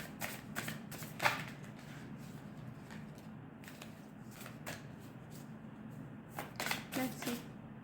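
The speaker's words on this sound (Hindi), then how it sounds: "ओके, ये 2 कार्ड्स फ्लिप हुए हैं।" Tarot cards are shuffled and flipped at close range, giving soft riffling and light slapping bursts at the start and again near the end, under a steady low murmur with talk in Hindi.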